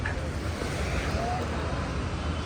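Ocean waves wash steadily onto a shore, a continuous near surf rush mixed with gusty wind buffeting the microphone, with no voices.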